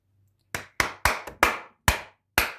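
Seven loud, sharp hand claps in an uneven rhythm, close and crisp, each with a short ringing decay in a quiet room.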